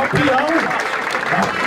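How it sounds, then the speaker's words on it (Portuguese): A crowd at the final of a rap battle claps and cheers for the two finalists. The short burst of applause is mixed with raised voices over it. "salva de palmas para os dois que estão fazendo."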